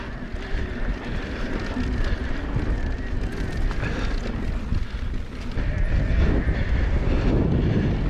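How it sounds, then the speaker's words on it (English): Strong wind buffeting the microphone, a constant loud rumble and roar that swells slightly toward the end. "It's pretty windy today."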